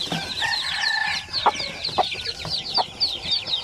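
Basilan native chicks and hens chatter continuously nearby, high thin peeps overlapping with a few short clucks from adult fowl, a busy steady flock sound with no talking.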